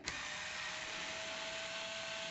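Battery screwdriver set to undo, spinning out screws on a Moser battery-powered horse clipper, a steady high motor whine held continuously for a couple of seconds after a brief start click, close and fairly quiet.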